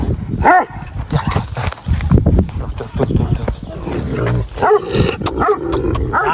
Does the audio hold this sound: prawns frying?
no